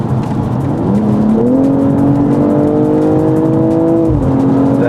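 A BMW M240i G42 engine revs inside the car, its synthesized tone piped through the cabin speakers, climbing in pitch in steps, holding, then dropping back, loud and continuous.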